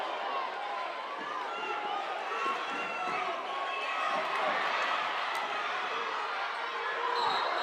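Spectators at a close high school basketball game between York High and Central York roar in a steady, dense wall of crowd noise, with ball bounces and sneaker runs on the court and a commentator talking over it.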